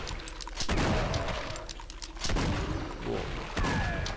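Shotgun fire in a first-person shooter game, with several loud booming blasts in quick succession over busy game effects and a voice talking.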